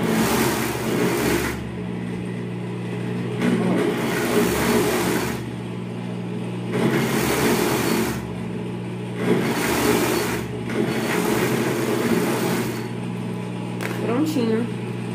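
A sewing machine stitches pajama pants and cuffs in repeated bursts of fast, even whirring separated by short pauses, close and steady. Someone talks in the background.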